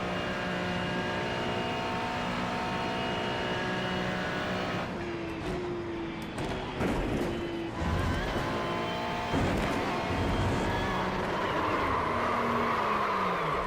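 A Ferrari GT4 race car in a sim racing game at the Nurburgring, its engine droning steadily with gear shifts and rising and falling revs, close and loud, with occasional tyre scrubbing over curbs.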